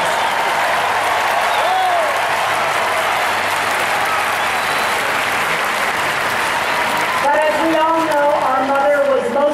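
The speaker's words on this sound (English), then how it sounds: "So give all the coaches and your family members a great round of applause." A huge stadium crowd at the 2015 Special Olympics World Games opening ceremony in Los Angeles applauds loudly and continuously, with a voice speaking over the roar near the end.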